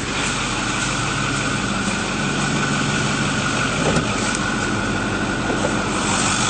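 A 2008 Ford F-250 Super Duty pickup truck engine idles close and even, a continuous smooth rumble with no talking and no change in pace.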